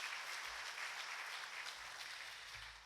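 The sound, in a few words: church congregation applauding the choir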